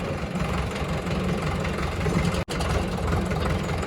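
A tractor engine runs steadily nearby with a low, rumbling chug while ploughing a field, briefly cut off by a sharp gap partway through.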